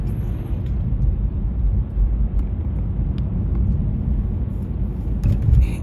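Car driving on Broadgate road in Chadderton during a driving test route, a steady low rumble of engine and road noise heard from inside the cabin, with no talking.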